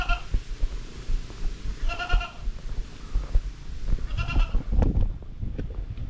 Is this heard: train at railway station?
no